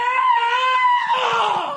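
A man imitates a pained yell with a loud, sustained, high-pitched scream that wavers and roughens toward the end, lasting under two seconds with no other sound.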